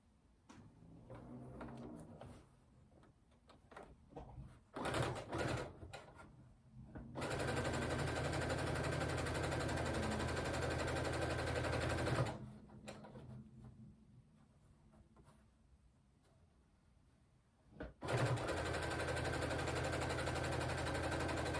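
A sewing machine stitches a seam in two long, steady, loud runs, each starting abruptly after quieter handling noise, with no talking.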